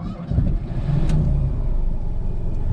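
A rear-mounted engine in a 1988 FSM Polski Fiat 126p 650E is revved up while warm, rising to a loud, steady, close drone, with faint popping from the exhaust.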